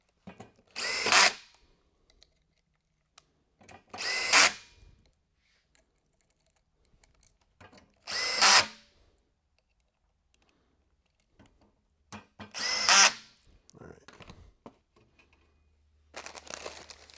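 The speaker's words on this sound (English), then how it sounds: "now that we put all the screws in, we can put these short machine screws on the J rail" Five short, loud whirring bursts from a power drill driving short machine screws into the J rail during an Apex two-leg installation, each lasting about a second and separated by quiet pauses, close up.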